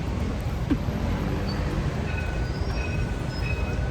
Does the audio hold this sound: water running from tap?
no